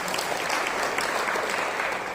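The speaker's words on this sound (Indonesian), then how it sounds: "Tepuk tangan buat Tuhan dong" Worship congregation gives a burst of dense, steady applause, many hands clapping together close and loud for the full two seconds without a break.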